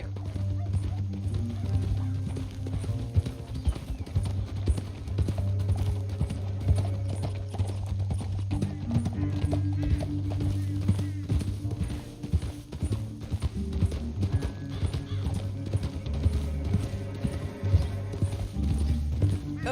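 Horses galloping in Red Dead Redemption II, a steady, rapid clip-clop of hooves running throughout, loud and close, layered over a low rumbling music bed with faint voices now and then.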